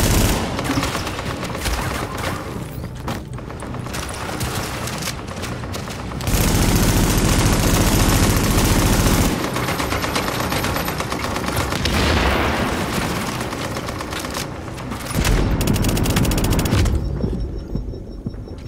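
Dense gunfire in the shooter video game The Division, with rapid, sustained automatic bursts and heavy booming stretches rolling continuously and loudly, with no talking.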